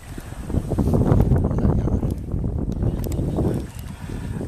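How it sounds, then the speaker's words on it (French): Breaking waves churned up by wind over a small river rapid, heard from a Klepper folding sailboat; a steady, loud rush of water and wind noise with surging swells, no voices. "Le bruit qu'on entend, c'est des déferlantes."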